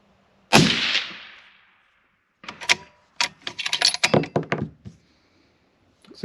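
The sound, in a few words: 6.5 Creedmoor rifle shot with first handloads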